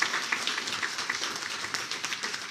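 A crowd applauds a doctor at a political gathering in Delhi, a steady wash of clapping held at moderate level throughout, with no speech over it.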